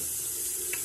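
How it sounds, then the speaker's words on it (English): Warm water runs steadily from a tap onto a rag, a brief continuous hiss with no voices. "So once I done wet it with warm water"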